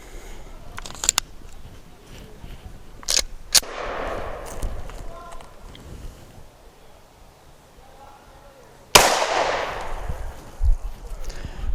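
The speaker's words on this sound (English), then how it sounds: "we're going to be shooting the Glock 35 factory barrel" Sharp, loud shots ring out from a Glock 35 pistol with its factory barrel firing .40 S&W rounds. A few cracks come early, then a single very loud blast near the end, with quiet room noise between.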